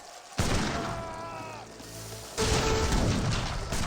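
Heavy cannon artillery fire in Age of Empires 3, with two loud booming shots a couple of seconds apart amid battle noise.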